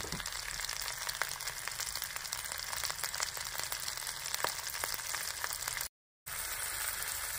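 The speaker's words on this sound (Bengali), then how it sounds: "দুবার করে আমি এই চিংড়িগুলো লাল লাল করে ভেজে নেব" Large prawns fry in hot oil in a wok, a steady crackling sizzle close up and continuous apart from a brief cut near the end, with no talk.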